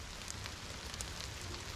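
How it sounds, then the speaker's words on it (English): Steady rain beginning to fall outdoors in a goat pen, a soft continuous patter of drops with no talk, faint and even throughout. "it's starting to rain"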